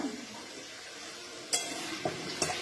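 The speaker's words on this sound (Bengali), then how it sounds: "আলু, কপি, পেঁপে, মটরশুটি দিয়ে রান্না হচ্ছে" A curry of potato, cauliflower, papaya and peas cooks in a pan, a soft low sizzle with a few sharp metallic clinks of a utensil against the pot; no talking.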